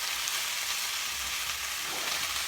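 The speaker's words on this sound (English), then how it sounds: "we're just going to stir everything in" Vegan vegetable fried rice with scallions sizzles in a pan as it is stirred after the heat is turned off. A continuous bright frying hiss plays on its own at moderate volume.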